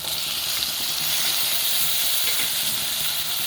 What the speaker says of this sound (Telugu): ఇప్పుడు దీంట్లోనే టమాటా కూడా వేసేసుకుందాం